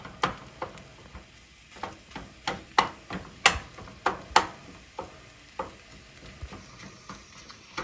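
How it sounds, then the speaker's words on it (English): Chopped onion stirred into ground beef frying in a pan, a run of sharp scraping strokes at an uneven rhythm over a faint background sizzle, fairly quiet and with no voices. "all I need to do is stir in that onion here with my beef, and it should cook up really nicely"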